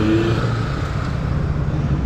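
Busy road traffic with many vehicles passes close by in a steady, dense rumble of engines and tyres, without any clear voices, for a couple of seconds.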